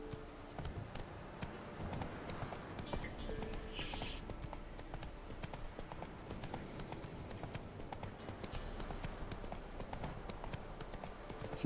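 Roach the horse trotting in The Witcher 3, with a continuous rhythmic clip-clop of hooves that stays fairly close and clear, and little else over it.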